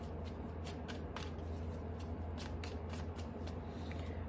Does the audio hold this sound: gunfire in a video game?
no